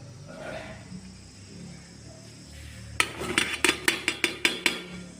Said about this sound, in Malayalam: ഇനി ഞാനിത് കുക്കറിലേക്ക് ഇട്ട് കൊടുക്കുകയാണ്